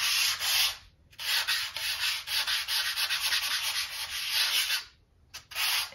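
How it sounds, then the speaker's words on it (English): Dense window insulation foam rubs soft pastel across paper in close, scratchy swishes, several long back-and-forth strokes with brief pauses between them. "if I just rub across that"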